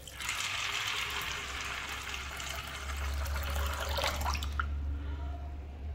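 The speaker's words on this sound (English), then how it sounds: "Add 2 glasses of water" Water pours steadily into a vessel of channa dal set to soak, a continuous bright splashing gush with a low hum beneath that cuts off sharply near the end.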